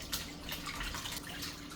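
Chitterlings being washed by hand in a pan of water, giving soft splashes, drips and sloshing, faint and close with no voices.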